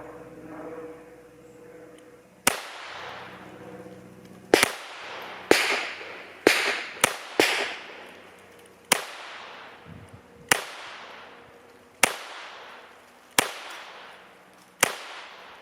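Sharp .22 pistol shots from a Taurus TX22 firing cheap bulk ammunition, about twelve cracks in irregular bursts, close and loud with short ringing tails against quiet outdoor background.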